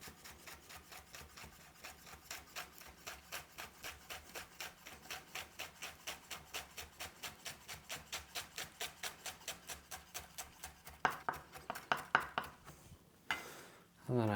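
A knife slices food for a thousand-pea pasta on a cutting board, a long, steady series of quick, close, even chops with a few louder knocks and scrapes toward the end.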